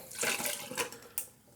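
Liquid poured into a cocktail shaker full of ice, a close, bright splashing pour that trickles off, then a short sharp clink near the end.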